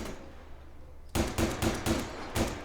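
Gunshots ring out in the video game Survarium: after a quiet lead-in, five sharp, loud shots crack in an uneven series, close together and unaccompanied by talk.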